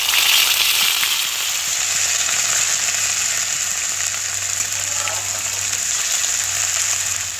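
Steady, loud sizzling of green chilli paste frying in hot oil with cumin and bay leaves, for a radish and maskolai dal, continuous and close with a faint low hum beneath.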